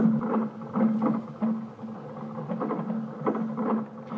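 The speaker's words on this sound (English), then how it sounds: "it has a sound effect on it called Zapper, and it lowered the tone and made it sound almost like wind" A toy ball sound processed with a lowered-tone Zapper effect to resemble wind for a roller coaster soundscape, a steady moderately loud whooshing hum with gentle rhythmic swells.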